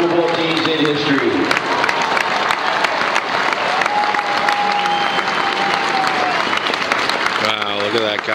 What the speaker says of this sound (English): let's give a nice round of applause to one of the greatest Army football teams in history